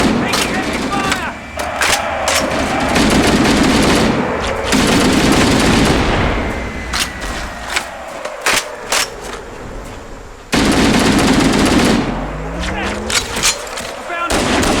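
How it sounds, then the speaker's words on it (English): Sustained gunfire from Halo: Combat Evolved Anniversary fills the scene, rapid automatic bursts and heavy booms layered with battle noise, loud and continuous with brief lulls and shouted combat voices mixed in. "Taking heavy fire!"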